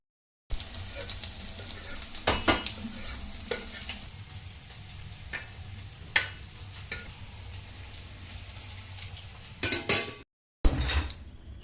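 Chitol fish frying and being stirred in a pan, a continuous crackling sizzle broken by sharp scrapes and clinks of a spatula, with a brief silent break near the end.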